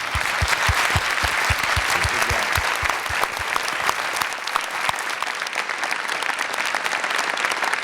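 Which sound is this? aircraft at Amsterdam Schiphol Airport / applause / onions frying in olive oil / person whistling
applause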